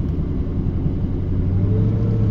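Idling V8 of a 1996 C4 Corvette with a steady low rumble, the pitch dipping and settling as the clutch is engaged, close and continuous with no talk.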